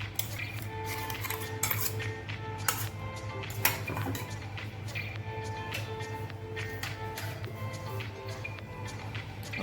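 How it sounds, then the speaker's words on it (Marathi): A spoon scraping and clinking against a metal bowl while gram flour batter is mixed with chilli, garlic and turmeric paste, irregular close taps over a low steady hum. "मिश्रण चांगलं मिक्स करून घ्यायचे."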